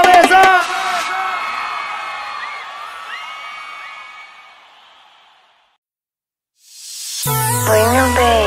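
A large concert crowd in Fortaleza, Brazil roars, whoops and cheers loudly for several seconds, fading out into brief silence before music and voices return.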